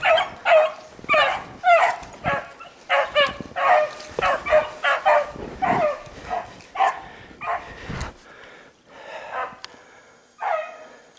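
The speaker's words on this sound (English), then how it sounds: "Here comes the dog swimming after him." Harehound pack baying and yelping in a rhythmic string of barks and whimpers while chasing a hare through deep snow, several dogs close and fairly loud, with no talk over them.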